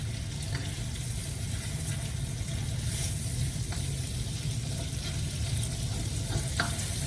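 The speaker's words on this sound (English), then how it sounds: "you're just gonna cook these for about a minute until they turn pink" Shrimp fry for pineapple fried rice with a steady, moderate sizzle in a pan, occasional faint stirring clicks over it and no voices.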